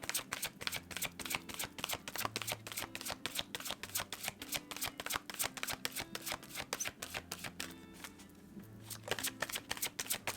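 Lenormand fortune-telling cards being shuffled and drawn at close range, making a rapid, regular patter of crisp card flicks at low volume while faint music plays beneath.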